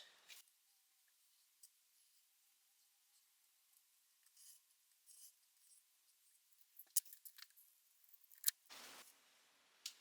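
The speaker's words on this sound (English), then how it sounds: "I'm going to use these Fiskars snips, which I love because they've got a little spring" Fiskars spring-loaded snips cutting Doodlebug cardstock, sparse soft snips and paper rustles in a quiet room, growing busier toward the end with a louder crinkly rub near the close.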